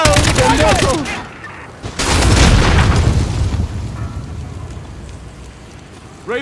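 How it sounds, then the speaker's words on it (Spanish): Explosion in Call of Duty Modern Warfare, a loud booming blast with crackling debris and rain-like scattering that fades into a rumbling tail, with gunfire-like bursts and brief voices early on. "explosión al norte de la plaza principal"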